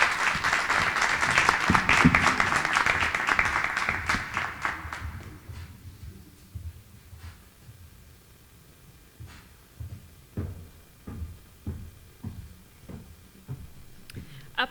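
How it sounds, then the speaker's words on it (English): Audience applause for two presenters at a 2018 Cuba infrastructure scholarship competition, a dense, loud burst for about five seconds that then thins into scattered individual claps. "Please give one big round of applause to them."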